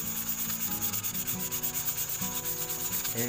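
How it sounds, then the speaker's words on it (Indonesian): Steady, rhythmic scraping of sandpaper rubbing back and forth over a rusty box cutter blade, many quick even strokes, close and alone. "Kita amplas dulu karternya, kita hilangkan karat-karatnya dulu."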